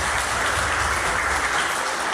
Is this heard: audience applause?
yes